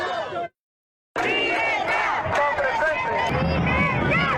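Hundreds of people at a Cuban solidarity protest in Florida chant and shout together in a loud, dense crowd, with a brief silent gap near the start before the voices surge back.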